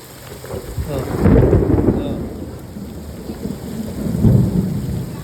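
Deep thunder rumbles twice, early and near the end, over the loud, steady roar of heavy monsoon rain. No one speaks.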